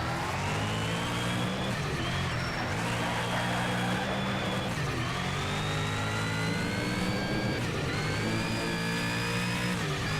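A Koenigsegg engine roars in Need for Speed Shift 2, loud and continuous, climbing through the revs with gear changes where the pitch drops and then rises again. No voices are heard over it.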